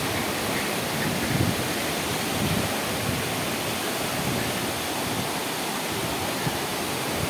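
Hebbe Falls in Karnataka gives off a constant, dense roar of falling water that stays steady and loud throughout, with no voices heard over it.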